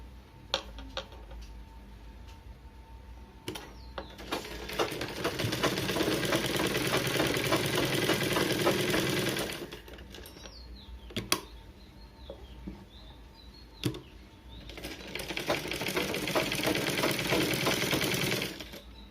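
A sewing machine runs a quarter-inch seam around a blouse piece, two sustained whirring bursts of motor and needle chatter separated by a quieter pause with light clicks and handling noise.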